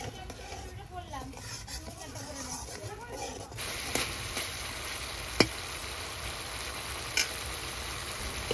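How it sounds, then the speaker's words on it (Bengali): Mustard paste sautéing in a pan with mustard-washing water, a steady close sizzle with scattered clinks of a spoon against the pan, alone without talk. "এবার সর্ষে ধোয়া জল দিয়ে ভালো করে কষে নেব।"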